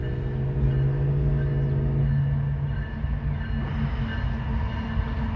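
A southbound CSX coal train of loaded hopper cars rolls past with a continuous heavy rumble and droning tones, steady and fairly loud throughout.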